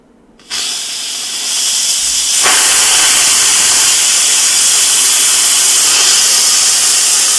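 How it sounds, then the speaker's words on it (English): Steam venting from an Instant Pot 6-quart electric pressure cooker: a loud, steady hiss that bursts on abruptly, swells within a couple of seconds and then holds at full strength with no voices. "that's just steam"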